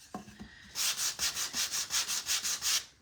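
Sandpaper rubbed over a wooden craft piece for a scarecrow and sunflower kit, a few light scrapes followed by about ten steady rhythmic back-and-forth sanding strokes, close and clear.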